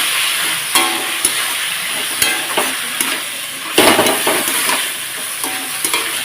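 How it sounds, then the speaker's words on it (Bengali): Boiled banana flower and fried potatoes stir-fried with spices, a loud continuous sizzle with repeated spatula scrapes and knocks against the pan at an irregular rhythm, close up. "এখন এর মধ্যে আমি এক এক করে ভেজে রাখা আলু সেদ্ধ করে রাখা মোচা দিয়ে দিলাম এখন এটাকে ভালোভাবে কষিয়ে নেব সব একসঙ্গে"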